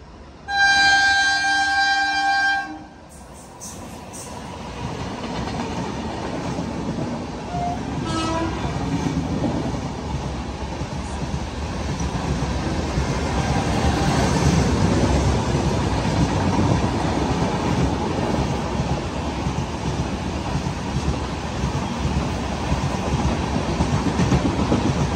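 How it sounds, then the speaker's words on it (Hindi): A train horn blares briefly, then a train in India rumbles past close by while a local train waits, its wheels clattering steadily on the rails for a long stretch. "मैं तो वेट कर रहा हूँ वंदे भारत ट्रेन की, जो मोदी जी की सपनों की ट्रेन है।"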